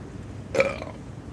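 A single short, close burp from a man, sharp and loud for a moment against a quiet room, with no speech around it.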